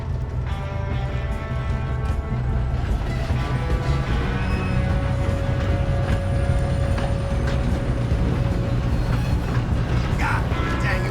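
Train running in the video game Red Dead Redemption 2, a continuous loud rumble of rolling rail cars with clanking and squealing metal tones throughout, heard up close.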